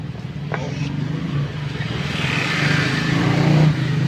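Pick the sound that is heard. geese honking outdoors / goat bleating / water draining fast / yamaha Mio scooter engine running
yamaha Mio scooter engine running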